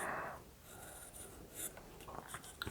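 Soft pencil strokes sketching lines and folds on a handmade book bookmark, a few faint close scratches against a quiet room hiss.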